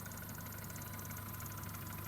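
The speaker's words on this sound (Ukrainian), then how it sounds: "цокотить клапан адсорбер" A Volkswagen Golf engine idles steadily up close, with a fast, even ticking from the evaporative purge valve running through the hum.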